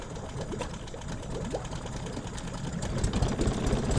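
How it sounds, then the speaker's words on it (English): An outboard boat motor starts up and runs steadily, a continuous rough, loud engine drone with a busy mechanical rattle that builds slightly toward the end. "we're gonna fire it up and make sure it doesn't overheat on us."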